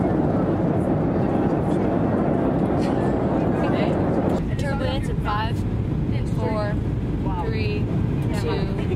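An airliner cabin during a rough, turbulent landing at Johannesburg, with a steady loud roar of engines and airflow throughout and people talking over it in the second half.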